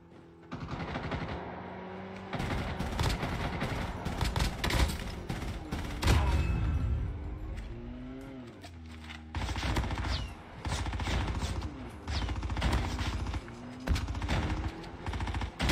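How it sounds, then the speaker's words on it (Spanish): Gunshots in a battle-royale video game: dense machine-gun fire and rapid volleys come in long loud bursts, pause briefly around the middle, then resume heavily toward the end. "Escuché disparos aquí"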